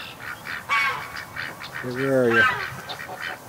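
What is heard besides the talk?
Canada goose honking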